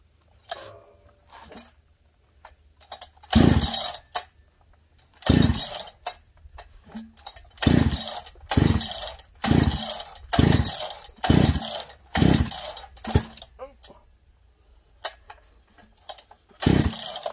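A Husqvarna 395XP chainsaw being pull-started, with a string of loud, rough bursts a second or two apart as it sputters and catches briefly between quieter pauses, heard up close.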